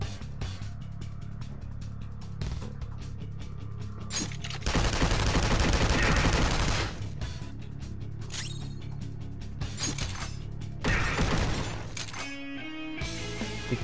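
Gunshots in Persona 5 Royal sound as repeated bursts of rapid gunfire alongside mechanical clicks and clatter during a turn-based video game battle, loud, with no talking.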